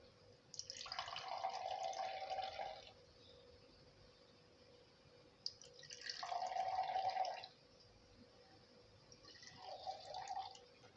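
Mint margarita is poured into glasses in three separate streams, each a close, steady liquid splash lasting a couple of seconds, with quiet pauses between them.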